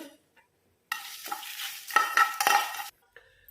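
A pan sizzles and crackles as taro root fries over low heat, with stirring scrapes in bursts, then it quiets briefly near the end.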